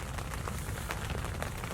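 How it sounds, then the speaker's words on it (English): Steady rain falls outdoors at the arrival of a weather front during a hunt, a dense continuous patter on surfaces with scattered closer drops, fairly loud and even throughout with no talking. "There you go, folks. The rain's here."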